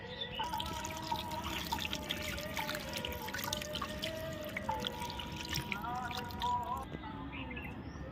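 Raw chicken pieces being washed in clean water, with splashing, trickling and dripping close by and a faint tonal hum in the background.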